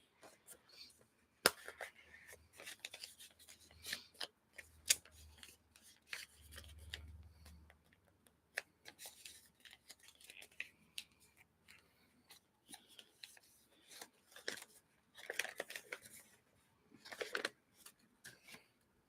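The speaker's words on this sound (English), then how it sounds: "I'm gonna use scissors" Scissors snip paper into little pieces, quiet irregular crisp cuts and rustling close by, with soft low rumbles between the snips.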